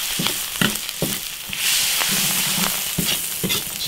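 Pork intestines stir-fried in a hot wok with scallion, ginger, Sichuan peppercorns, dried chilies and chili paste, a loud close sizzle broken by scraping spatula strokes, no talk.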